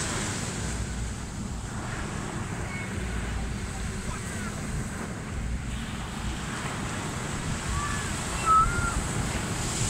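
Ocean waves washing on a beach where children play in the sea, a constant surf rush mixed with wind buffeting the microphone, with voices faintly underneath.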